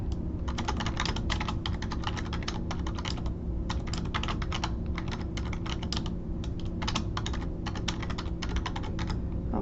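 Someone types a reference on a computer keyboard in a fast, continuous stream of close, crisp key clicks with short pauses between bursts, over a steady low background hum.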